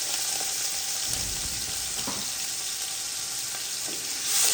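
Onions frying in a pan for chana pulao, giving a steady, dense sizzle that holds evenly throughout with faint stirring scrapes and no talking.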